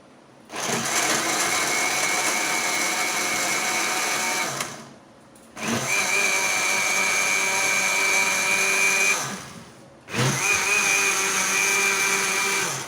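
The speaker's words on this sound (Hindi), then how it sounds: "अब हम इसे ग्राइंड कर लेंगे।" A kitchen blender grinds strawberries, gur, milk and ice into a milkshake, running loudly in three steady whirring bursts separated by brief pauses.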